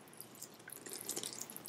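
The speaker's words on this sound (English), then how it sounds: "Drained away the water from the sago." Water drains and drips from freshly boiled, puffed-up sago pearls in a kitchen, a faint continuous trickle with scattered small droplets and no talk.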